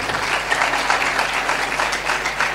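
A church congregation applauds loudly and continuously at a sermon, a dense, even wash of many hands clapping with no pause.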